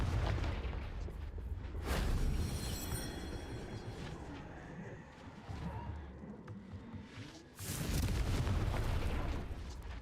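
A Confringo fire spell erupts in the Hogwarts Legacy video game with loud, booming, broadband blasts and rumbling crackle. A heavy burst near the start and another strong blast later sit over continuous game noise.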